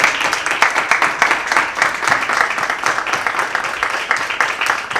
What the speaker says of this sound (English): I'd really like everybody to stand up, and because I want to give you a round of applause